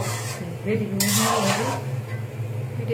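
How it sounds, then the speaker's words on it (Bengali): A vegetable curry is stirred in a pot held steady with a cloth in a village kitchen, giving a few scraping metal clinks and rattles of the spoon against the pot while a voice talks over it. "কাপড় দিয়ে ধরা একটু নাড়াচাড়া করে লই সবজিটা"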